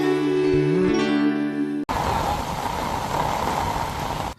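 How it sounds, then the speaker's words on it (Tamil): Heavy monsoon rain pours down in Delhi, a steady dense hiss of downpour after an abrupt cut from a tonal passage, with no distinct thunder. "டெல்லியில் இடிமின்னலுடன் கனமழை கொட்டி தீர்த்து வருகிறது."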